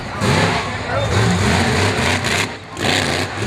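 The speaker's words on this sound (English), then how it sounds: "Truck's still sounding a little bit sick, but he's been doing pretty well tonight despite the sound of the motor" A monster truck engine at an arena show, its motor sounding sick and rough, drones loud and steady with throaty rises and dips, partly under a commentator talking over the crowd.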